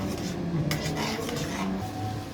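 A utensil stirs prawn curry masala with mustard paste, garlic and oil in a pan, giving close, steady scraping and clinking with a faint sizzle underneath.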